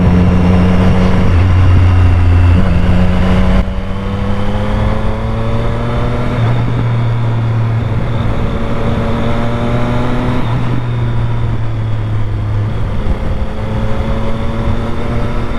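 Motorcycle ridden along twisty roads on a sunny day, engine steady and close throughout with rising and falling pitch as it accelerates and shifts through gears, a brief lull near four seconds, no talking.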